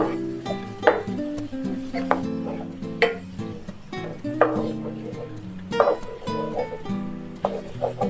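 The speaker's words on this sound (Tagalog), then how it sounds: "So, igisa na lang natin. At i-add na natin yung ating ginawang sauce." Squid stir-fried in a pan with spicy sauce, with steady scraping stirs, clinks of a utensil against the pan and a low sizzle throughout, a handful of sharper stirring accents standing out.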